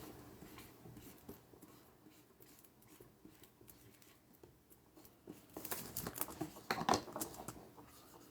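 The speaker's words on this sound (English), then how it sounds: "write a sigil." A pen or marker drawing a sigil on paper: soft scratchy strokes at a quiet level, becoming busier and louder near the end with several quick scribbling bursts.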